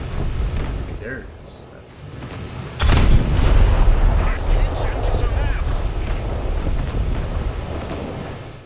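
A Yugumo destroyer fires its main guns in War Thunder, one loud, deep boom after a stretch of windy sea noise, then a long rumbling roll under a speaking voice.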